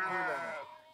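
A single sheep bleats close by in the mountains near Tashkent, Uzbekistan, one wavering harmonic call just under a second long that fades out.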